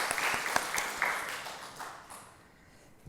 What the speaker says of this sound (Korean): 우리 모든 영광 하나님께 박수를 올려드리겠습니다.